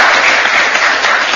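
Loud, dense applause from a studio audience on a Black Sea–themed show, a brief unbroken burst of many hands clapping close up.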